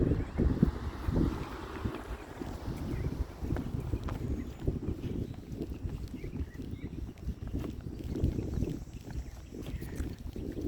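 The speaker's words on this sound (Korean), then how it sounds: "바람이 있어서 이렇게 깃대가 펄럭이는 소리가 들리는데" Outdoor flag on a flagpole flapping in steady wind on a Memorial Day morning walk, a continuous rough fluttering rumble with irregular snapping gusts, close and moderately loud, no talking.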